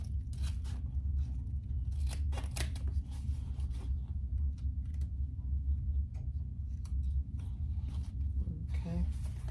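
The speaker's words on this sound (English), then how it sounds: "And we'll cut that excess off." Scissors snip off excess waxed canvas while a zip pouch is sewn, giving a few short, crisp cuts near the start over a steady low background hum.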